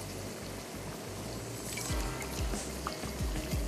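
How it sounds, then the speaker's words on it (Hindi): Four cups of water poured into a pot of garlic rice cooking with a stock cube: a steady low pouring rush under noisy kitchen ambience, with a few knocks and gurgles near the end, no talk. "तो मैं इसमें ऐड कर दूंगी 4 कप पानी"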